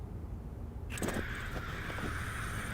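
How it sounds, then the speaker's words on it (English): A crow caws in the video game Life Is Strange: Before The Storm, a few rasping calls standing out against a steady low ambient hum. "The crow."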